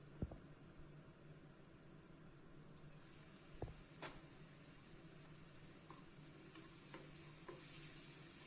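Paneer masala sautés in a pan, a faint, steady sizzle with a low hum underneath and a few soft utensil taps. Nobody talks.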